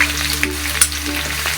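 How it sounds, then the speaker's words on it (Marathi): Chopped onion going into hot oil already holding whole spices, a steady loud sizzle with brief crackling bursts, close up, for a Marathi-style veg pulao, no talking. "खडे मसाले टाकले, आता कांदा टाकून घेऊया।"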